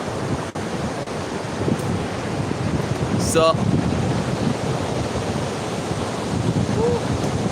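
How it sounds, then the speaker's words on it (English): Strong wind buffets the microphone on a beach in The Gambia, with surf rolling in underneath, a continuous loud roar throughout; a voice briefly speaks near the start. "It's extremely windy."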